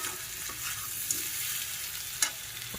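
Food frying in a pan as a home meal is cooked, a steady soft sizzle with occasional brief louder crackles or stirring clinks, fairly close and with no talk.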